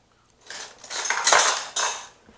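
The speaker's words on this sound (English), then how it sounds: "Use a spoon and mix it all in." A spoon scrapes and clinks against a bowl while mixing flapjack mixture, a loud, close, continuous stirring that lasts about two seconds.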